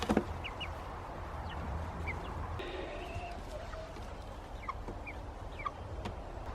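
Large, heavy Orpington chickens cluck and chirp faintly in a pen, a few soft calls scattered over steady outdoor background noise.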